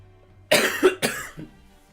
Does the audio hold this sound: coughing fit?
yes